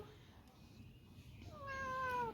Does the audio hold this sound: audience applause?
no